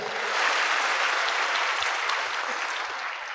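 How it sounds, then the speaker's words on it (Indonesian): A large conference audience applauds continuously, a dense wash of clapping from many people that holds steady and begins to fade toward the end. "Tepuk tangan untuk Indonesia."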